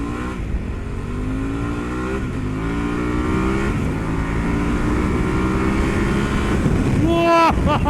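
Harley-Davidson Pan America 1250 Standard 2021 motorcycle accelerating hard, a loud continuous engine roar climbing in pitch through several gear changes, with a brief rising whine near the end.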